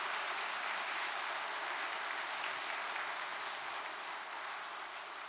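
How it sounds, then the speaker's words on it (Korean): Sustained applause from a large audience at a religious assembly, a dense steady clatter of clapping that holds evenly for several seconds without any voices over it. "하데베 선지자에게 큰 박수를 보내주셨으면 좋겠습니다."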